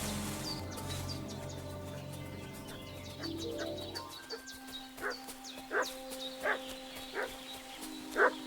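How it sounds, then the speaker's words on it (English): A dog barks in the medieval game Kingdom Come Deliverance 2, several short yelps spaced out at a distance over a quiet outdoor ambience with chirping birds and a low drone. "What's that dog making such a fuss about?"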